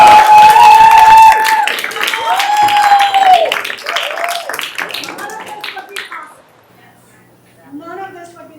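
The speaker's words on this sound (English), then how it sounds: "A round of applause." Audience at a school welcome session claps in scattered, sharp bursts while a voice speaks and someone whistles or calls out over it; the clapping thins out and fades toward the end.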